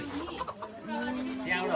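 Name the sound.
rooster clucking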